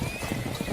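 Horse hooves clip-clop in a quick, even rhythm, several close thuds within under a second, with no voices.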